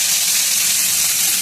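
Boal fish frying in hot mustard oil in a kadai, with a pinch of salt added to the oil beforehand, makes a loud, steady, close hiss that carries on evenly with no pauses.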